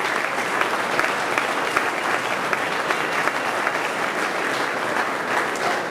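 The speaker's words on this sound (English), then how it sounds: "Let's give a round of applause for all the TechArb teams that do some incredible work" A crowd at a university student venture showcase applauds the TechArb teams: a loud, sustained wash of clapping from many hands, even and continuous throughout.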